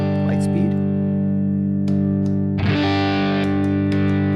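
An electric guitar through a Light Speed boost pedal rings out in sustained, thick chords with a slight grit, a new chord struck midway, while someone talks briefly over it.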